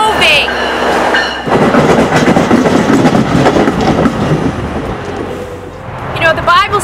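A train rumbles along the tracks, a loud steady clatter of wheels with faint squeals, while a voice talks over it.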